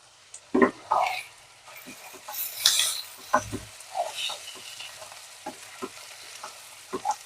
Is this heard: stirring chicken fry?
yes